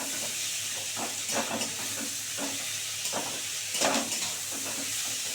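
Beans, carrots, potatoes and chillies fry in a pan for homemade egg chow mein, giving a constant bright sizzle with a steady hiss. Soft stirring scrapes come through now and then.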